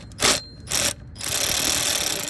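Electric ratchet spinning out the water pump pulley bolts on a BMW E46, two short loud whirring bursts followed by a longer steady run, close up with no talking.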